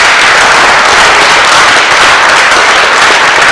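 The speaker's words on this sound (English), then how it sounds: "one more round of applause for our" An audience in a parish setting applauds loudly and steadily, a dense, close wash of clapping that fills the whole stretch without letting up.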